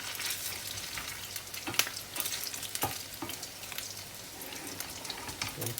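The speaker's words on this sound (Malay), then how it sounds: "Biasanya bila orang goreng ikan vegetarian, dia akan guna banyak minyak supaya dia tak melekat" Vegetarian fish frying in plenty of oil in a wok, a steady crackling sizzle with scattered sharp pops and occasional stirring scrapes, close and continuous with no voices.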